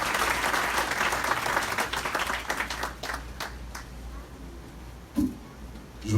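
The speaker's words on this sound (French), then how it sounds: "Vous pouvez applaudir encore" A crowd at a graduation ceremony applauds loudly, the clapping gradually fading out, followed by a quiet pause and a few faint noises.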